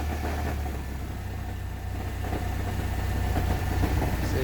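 A Chevy S10 2.2-liter four-cylinder engine idling with a knock, a steady low rumble with faint rapid ticking tapping through it, close and continuous, rising slightly toward the end.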